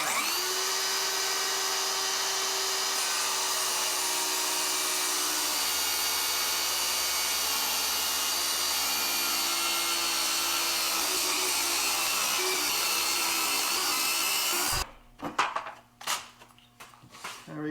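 A power saw cuts across the bottom of a hollow interior door, a loud continuous high whine held steady for about fifteen seconds, then stopping into a few knocks and handling noises.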